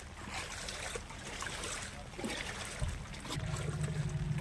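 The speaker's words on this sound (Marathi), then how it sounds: "आता प्रवाह बघा ड्रायगनमधनं किती वाहत चाललं आहे" Floodwater from heavy rain rushing fast through a drain in a waterlogged field in Solapur district, a steady broad rushing wash close by with occasional splashes and thumps, no talking.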